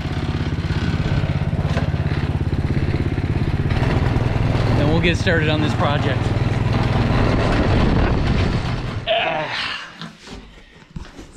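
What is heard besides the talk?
lawn tractor engine running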